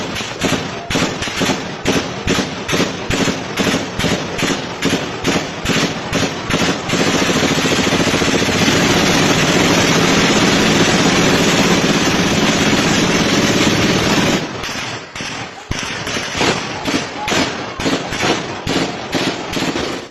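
Rapid bursts of gunfire mixed with commotion, recorded in an eyewitness video of a shooting with people fleeing; dense repeated loud cracks at the start and end, with a sustained noisy roar through the middle.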